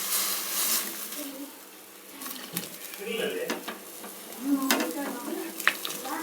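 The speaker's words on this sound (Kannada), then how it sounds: "ಕಾದಿರೋಂಥ ನೀರೇ ಹಾಕ್ತಾಯಿದ್ದೀನಿ. ಕುದೀತಾ ಇದೆ." Hot water poured into a pan of vegetables for shavige upma, bringing bursts of sizzling and bubbling along with metal utensil clatter and scraping, close and moderately loud.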